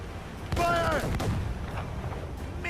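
Ship-mounted mortar fire in Assassin's Creed Rogue during a naval battle: a loud boom erupts and rolls on with a long rumbling tail, with a shouted voice and a whistling tone over it.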